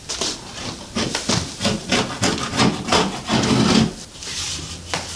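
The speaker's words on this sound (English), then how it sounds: "I'm going to use this 6-in-1. It's a little sturdier. It's good for scraping like that." A sturdy 6-in-1 tool scraping along a drywall corner bead in rapid repeated rasping strokes, close and loud, with brief pauses between bursts.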